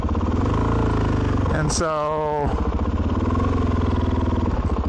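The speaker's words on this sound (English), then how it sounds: "it still had a couple of idle issues, specifically slow to idle, from fast idle to low idle." Suzuki DRZ 400 motorcycle engine, carbureted, idling with a rapid, steady putter close by, briefly interrupted by a clattering burst as someone speaks over it.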